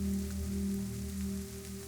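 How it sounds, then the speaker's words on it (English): Soft, steady rain patters continuously on surfaces, a dense, even hiss with no breaks, heard alone beneath a low steady hum. "somewhere behind all of this, the rain continues, soft, steady, unhurried."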